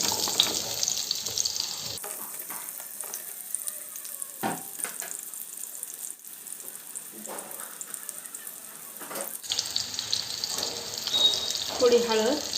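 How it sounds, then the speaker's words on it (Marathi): Raw banana pieces sizzle and fry in hot oil in a wok, a steady loud crackle with brief pauses and bursts as the pieces drop in and settle. "तेल गरम झालेलं आहे। आता यामध्ये आपण कट करून घेतलेली केळी घालून घेऊ।"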